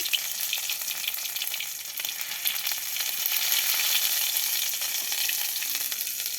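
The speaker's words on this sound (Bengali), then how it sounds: "একটু মশলা বাটা দিল গরম তেলে।" Spice paste sizzling in hot oil in a pan during home cooking, a steady bright crackle that stays continuous and close, with no voices.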